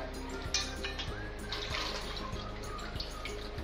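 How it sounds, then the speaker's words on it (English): Lentils being washed in a large bowl of water: water sloshes and splashes steadily, with small clinks and swirling sounds recurring throughout, close up and moderately loud. "You can take it in a large bowl and wash it once or twice so that the returning water is clear."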